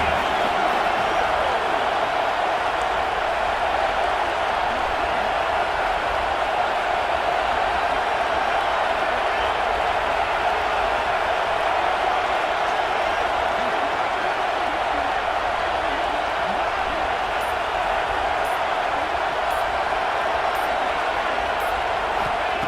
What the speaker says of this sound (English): Crowd is coming to help the defense.